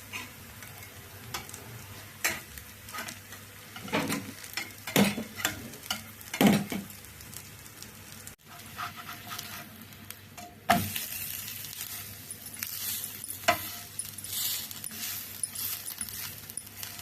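Ragi vegetable bun dosa cooking over medium heat, a continuous close sizzle and crackle with scattered clicks and spatula taps, growing brighter partway through.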